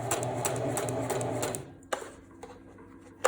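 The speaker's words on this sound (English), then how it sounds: "I've set the stitch to the 3-step zigzag on this machine" A domestic sewing machine runs a 3-step zigzag stitch on swim elastic, whirring steadily and close for about a second and a half before stopping, followed by a few sharp mechanical clicks.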